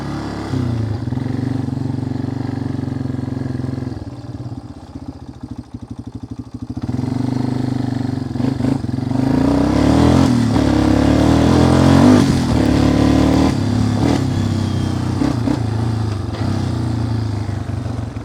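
A Yamaha Wolverine ATV engine runs steadily up close with slightly noisy exhaust baffles, revving higher partway through with a rough, slightly popping exhaust note.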